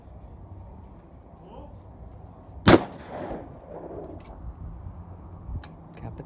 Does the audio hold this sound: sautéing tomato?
no